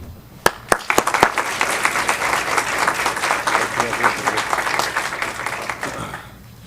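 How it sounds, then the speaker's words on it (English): An audience applauds semifinalists at a Board of Education meeting, opening with a few sharp individual claps before settling into steady, dense clapping that carries on for several seconds, then fades out near the end. "please join me in a round of applause for our semifinalists"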